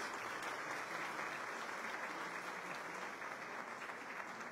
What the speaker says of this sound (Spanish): Un fuerte aplauso a todos ustedes